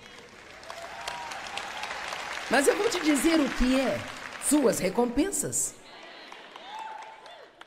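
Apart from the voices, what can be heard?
a single person clapping in sermon audience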